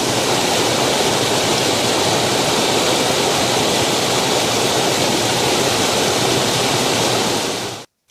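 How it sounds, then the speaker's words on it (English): Loud, continuous rushing of Flat Laurel Creek at a crossing, broad and steady like a fast creek close by, with no voices, ending abruptly. "Well, we made it to another crossing of the creek."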